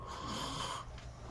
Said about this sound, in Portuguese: O cara tá roncando feito.